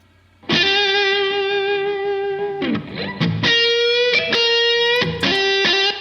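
Distorted electric guitar notes through a Quad Cortex ringing out, a long sustained tone followed by several chopped phrases, each trailing into a lush, shimmering plate reverb tail.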